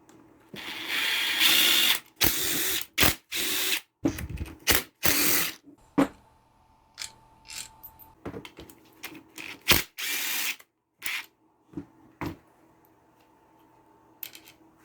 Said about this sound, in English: So let's get these sump bolts off.